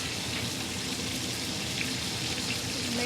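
Ribeye steak basted with foaming garlic butter in a cast iron pan, a steady close sizzle and bubbling hiss that stays loud and even throughout with no voices.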